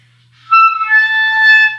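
A clarinet note is sounded with too much mouthpiece in the mouth, starting with a brief breathy attack and then holding a bright, edgy, slightly squawky tone, loud and close, heard alone.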